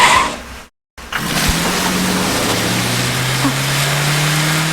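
A car pulls away after a brief moment of silence, its engine tone rising and holding steady as it drives off.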